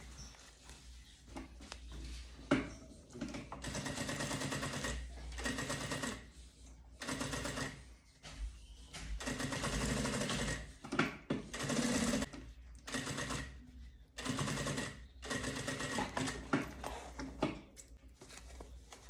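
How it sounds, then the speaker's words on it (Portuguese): A sewing machine stitches fabric joined to nonwoven TNT along a marked line, running in close bursts of rapid mechanical whirring and clatter separated by brief pauses as the stitching stops and restarts. "Agora, eu vou unir junto com o TNT e vou costurar pela marcação pro lado de"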